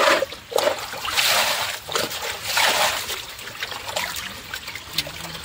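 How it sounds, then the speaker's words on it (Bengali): Cut, scaled rohu fish pieces rinsed by hand in water, with steady trickling, splashing and sloshing close up, no talk. "মাছটা আঁশ ছাড়িয়ে কেটে সুন্দরভাবে ধুয়ে নিচ্ছি।"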